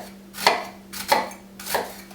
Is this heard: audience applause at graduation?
no